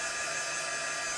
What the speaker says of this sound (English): I'm going to go ahead and take my heat gun